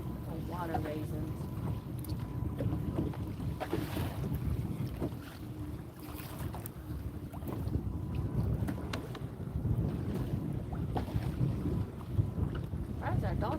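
Steady wind buffeting a microphone on a fishing boat out on the water, a continuous low rumble with gusts that swell and ease throughout, with faint voices underneath.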